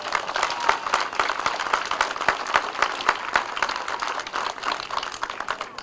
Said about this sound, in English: can I get some applause for that as well?